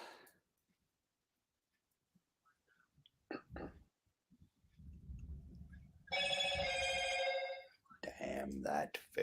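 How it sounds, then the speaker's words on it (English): A telephone rings in a loud burst of repeated electronic trills, close by, following quiet breathing and soft low rumbles, with a voice coming in just after. "Damn that phone."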